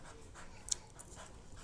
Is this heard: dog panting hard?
yes